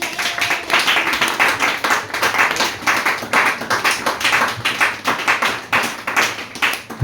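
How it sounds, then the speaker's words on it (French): Church congregation clapping together in acclamation, loud rapid rhythmic handclaps filling the room steadily for about seven seconds without speech. "acclame le Seigneur Jésus-Christ"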